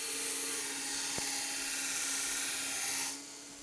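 A variable speed belt sharpening machine grinds the tip of a knife blade, a steady whirring rasp with a sharp tonal hum that cuts off abruptly near the end.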